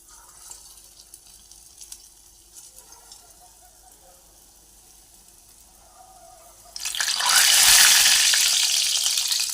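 Punugulu batter fritters drop into hot oil and set off a loud bright sizzle in the last few seconds, after a quiet stretch of faint kitchen clatter.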